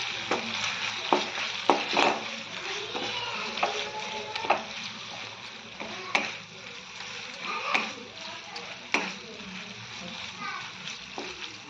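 Tomatoes cooked down with ginger paste sizzle softly in a pan for a fresh coconut kurma. A spoon scrapes and clinks against the pan again and again throughout, close by.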